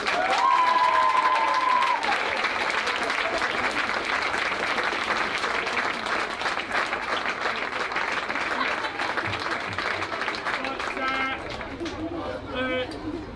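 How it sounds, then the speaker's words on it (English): A crowd at a school rugby match between Robert Gordon's College first fifteen and the leavers team gives sustained applause, steady clapping and some cheers lasting throughout at a moderate distance. "can you give a round of applause to"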